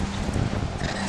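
Strong, cold wind roars steadily across the microphone at the Hermon ski resort in Israel, a dense, buffeting rush with no pauses.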